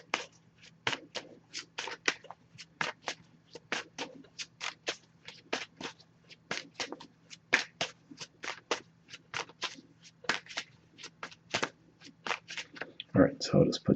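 An Oracle card deck is riffled and shuffled by hand, a quick series of crisp fluttering bursts in a steady rhythm, close and clear, ending in a denser clatter of cards.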